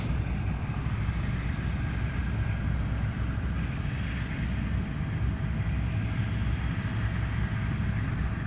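An aircraft engine at Anchorage's Ted Stevens International Airport, a heavy, steady low roar with a faint whine above it that holds at constant strength throughout, with no voices.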